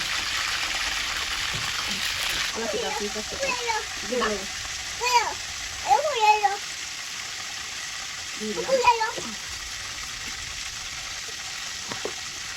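Chicken sizzling in hot oil, a steady bright hiss running throughout, with people talking over the middle stretch.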